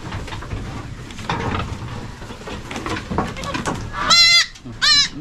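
Two loud, nearby goat bleats near the end, following a stretch of quieter background noise and faint voices.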